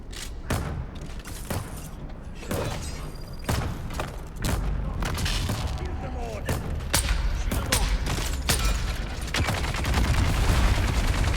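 Machine gun fire in the Dune: Awakening video game keeps up as rapid sharp bursts and booming thuds over a dense, noisy game backdrop, close and fairly loud throughout.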